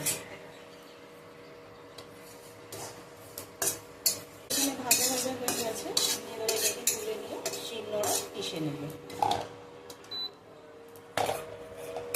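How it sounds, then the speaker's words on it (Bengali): Cumin seeds frying in oil in a wok for a chana dal recipe, with repeated metal clinks and scrapes of a spoon stirring against the pan over a faint sizzle, close and moderately loud, no talk. "প্রায় একটা চামচ মতো আমি জিরে দিয়ে দিয়েছি কড়াতে আমি এটাকে ভেজে নেব"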